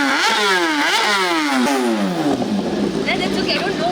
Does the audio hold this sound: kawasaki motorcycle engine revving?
yes